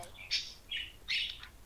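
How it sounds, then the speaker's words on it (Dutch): A pet bird gives three short, bright chirps spaced about evenly apart, faint and in the background against a quiet room. "Je hoort de vogel waarschijnlijk op de achtergrond."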